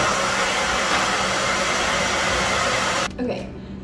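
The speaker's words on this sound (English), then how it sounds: "I am going to use a hair dryer and hope it doesn't move the paint around too much" Steady whooshing roar of a hair dryer blowing on a watercolor painting, loud and constant for about three seconds before cutting off abruptly, followed by a brief quieter tail.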